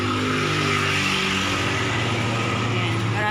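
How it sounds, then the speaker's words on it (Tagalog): Cars and other vehicles drive past on a road in a steady rumbling wash of engine and tyre noise, close and continuous. "Marami na mga sasakyan."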